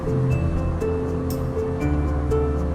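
Water poured evenly over bean sprouts covered with a cloth in a steamer pot gives a steady, close, rushing splash that runs without a break for the whole stretch.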